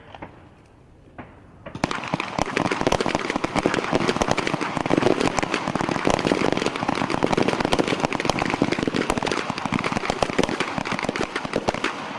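Pistol fire in a U.S. Army small arms championship match. After a quiet start, many shooters open fire at once, producing a dense, loud, continuous crackle of overlapping shots that lasts about ten seconds.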